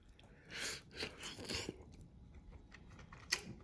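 Tender pork from a bowl of Kitakata ramen being chewed up close, soft wet bites in short bursts with a sharper click near the end, no talking.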